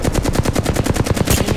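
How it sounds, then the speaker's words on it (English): Gunfire in the battle royale game Apex Legends: a rapid, steady stream of automatic shots, loud and close, with no voices. "Opening fire."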